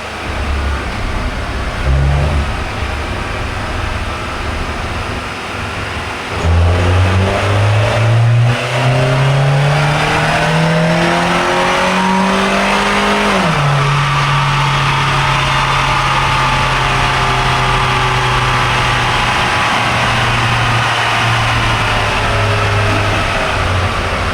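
A Peugeot 206 CC engine revs hard on a dynamometer during a power run, loud and continuous, its pitch climbing steadily through the gears before dropping and holding at a high sustained drone.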